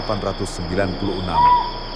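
A Rinjani scops owl on Lombok gives a brief clear tonal call near the end, over a background of insects and voices.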